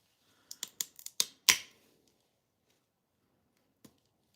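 A piece of blue patterned glass is chopped into small bits for murrine, giving a quick run of six or seven sharp close snaps that end in one louder crack, then a pause and two faint ticks.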